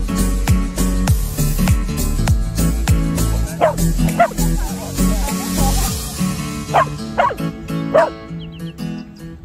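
A dog barks in short, repeated yips and bow-wows, fairly close, over a busy background of music or other steady sound.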